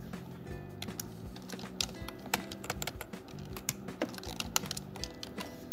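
Fingers type on a computer keyboard while entering text in a design app, a quick, irregular run of close, light key clicks with no voices.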